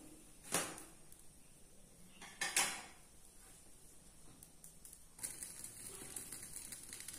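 A spatula scrapes a soft butter dosa off a hot iron griddle in two short, close scrapes, followed by a steady, faint sizzle from the pan.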